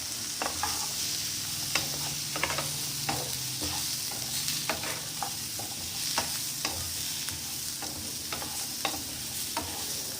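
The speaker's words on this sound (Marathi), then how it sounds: "आणि 1 चम्मच धणे टाकायचे, ते सुद्धा परतून घ्यायचे।" Coriander seeds sautéed in a pan, sizzling steadily while a utensil scrapes and taps the metal in frequent irregular strokes, close and distinct, with no voices.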